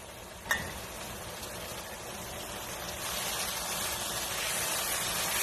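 Ginger garlic paste frying in ghee for aloo matar paneer, a faint, steady sizzle. A sharp clack sounds near the start, and the hiss grows a little fuller and louder in the second half.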